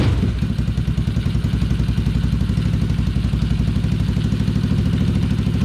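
A homemade Power Wheels Gator build with a small gas engine runs and idles close by, a steady rapid chugging putter with regular thumping pulses and no talk.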